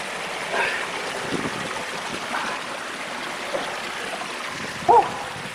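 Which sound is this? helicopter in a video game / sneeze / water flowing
water flowing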